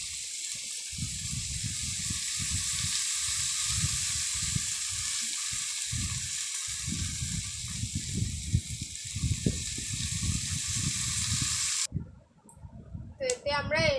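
Chopped pointed gourd frying in a pan, a loud steady sizzle with bursts of crackling throughout, cutting off near the end as a voice speaks.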